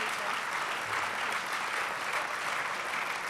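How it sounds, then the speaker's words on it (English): Sustained applause from an awards show audience, steady and dense clapping filling the whole stretch without pause. "How about a huge round of applause?"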